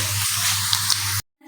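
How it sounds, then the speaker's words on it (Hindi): Hot tadka tempering poured onto kadhi sizzles with a loud steady hiss and spatter, close up, cutting off abruptly after about a second. "अब हम इसे उठाएंगे और कड़ी के ऊपर डालेंगे।"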